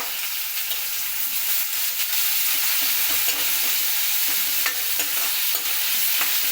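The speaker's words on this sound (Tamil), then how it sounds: "இப்போ இது நல்லா வதங்கட்டும்" Onions and tomato sautéing for a tamarind curry, giving a loud continuous sizzle with the scrape and clatter of stirring throughout and nobody speaking.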